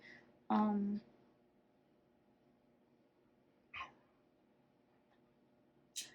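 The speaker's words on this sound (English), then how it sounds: "My dog is bothering me." A dog gives a sharp bark followed by two short, fainter yelps or whimpers spaced seconds apart in an otherwise quiet indoor room.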